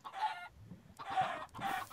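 Chickens clucking in the Minecraft video game, three separate bursts of rapid clucks with short gaps between them, close and moderately loud.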